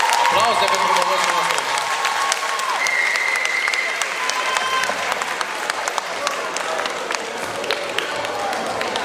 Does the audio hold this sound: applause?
yes